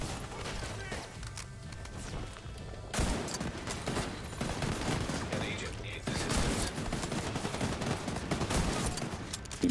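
Heavy .50 cal gunfire in The Division 2, loud continuous bursts of rapid shots with crashing impacts, coming in dense waves that briefly drop off and then resume, with voices talking underneath.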